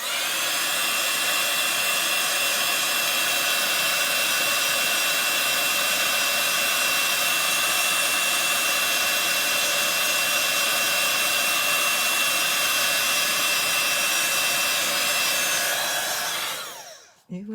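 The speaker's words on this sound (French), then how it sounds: "une dernière fois, je casse les oreilles avec le heat gun" A heat gun blows steadily up close for a collage art project, a loud, unbroken whooshing hum that stops abruptly at the end.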